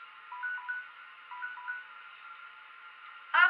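A kitchen timer set for thirty minutes during an at-home blonde root touch-up goes off near the end, a brief bright electronic ring sounding alone after quiet tones.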